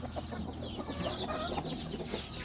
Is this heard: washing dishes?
no